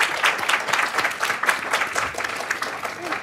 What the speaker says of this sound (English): And an applause to our guests.